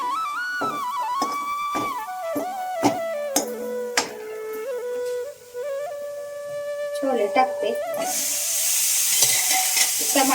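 Cooked potatoes are mixed and fried with chole in a pan, with spoon scrapes and clicks and a steady sizzle under prominent singing or humming, and a strong hiss rising in the final seconds.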